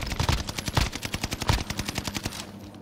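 Gunfire in a first-person shooter video game, rapid bursts of automatic weapon fire with sharp repeated shots, loud and close, coming in several quick volleys.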